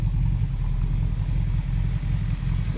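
A deep, rumbling 273 V8 engine in a 1966 Plymouth Valiant convertible idles steadily nearby, its low throb pulsing evenly throughout.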